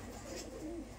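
Pigeons at a pigeon farm give soft, low cooing calls, a couple of short rolling coos that sound faint and a little distant over a quiet background, with no talking.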